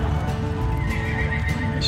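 Horse neighing loudly and close at a fair horse show, with hoofbeats clip-clopping steadily underneath throughout the short stretch.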